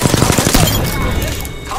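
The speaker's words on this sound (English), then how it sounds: "I'm getting shot at" Gunfire in a video game shooter crackles in rapid close bursts that jam together at first, then trail off into a lingering noisy tail.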